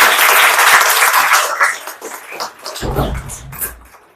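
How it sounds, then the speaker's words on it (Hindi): Loud audience applause at a motivational career-counselling session, dense clapping for about two seconds, then thinning out, with a low rumbling voice or microphone sound entering near the end. "एक बार जोरदार तालियां बजाइए।"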